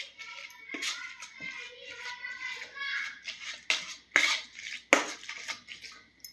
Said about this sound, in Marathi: मॅशरच्या साहाय्याने बटाटे गार झाल्यानंतर असे आपण मॅश करून घ्यायचेत